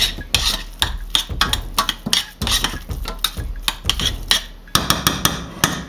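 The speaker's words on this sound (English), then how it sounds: "Let's give that a good old stir" A spoon scrapes and knocks steadily against a pot while Moroccan chicken is stirred, giving loud, close, rhythmic clatter with no talking.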